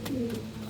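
A pigeon gives a soft, low coo, one short rolling call heard close by against quiet outdoor background noise.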